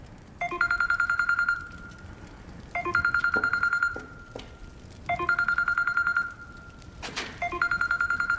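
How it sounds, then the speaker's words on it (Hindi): A mobile phone rings close by in repeated electronic bursts, each a fast warbling trill lasting about a second, separated by short gaps, loud and alone. "किसका फोन बज रहा है यार?"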